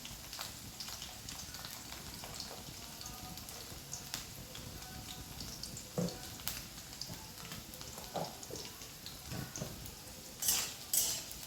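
Tomato and onion paste frying in a pan for a Bengali potato and pointed gourd curry, giving a faint, steady sizzle with occasional soft clinks and scrapes of a utensil.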